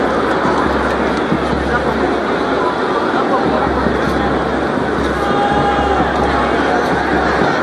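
A large crowd at a schoolboy football match between Kingston College and Central High in the ISSA Champions Cup, giving off a loud, steady hubbub of chatter and murmuring that fills the whole stretch.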